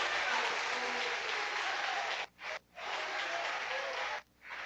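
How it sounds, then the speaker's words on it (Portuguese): Congregation applauding during a church worship service, a steady dense wash of clapping that fills the hall, broken by two brief pauses before resuming. "Aplauda o Senhor."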